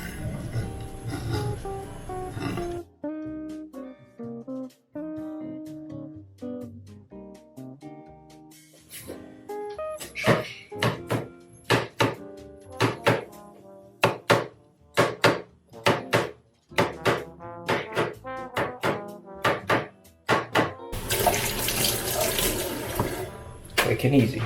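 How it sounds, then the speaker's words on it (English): Knife thinly slicing beef on a cutting board for bulgogi, heard as a quick, regular run of sharp chopping taps that follows a stretch of light background music. "Just trying to cut this as thinly as possible."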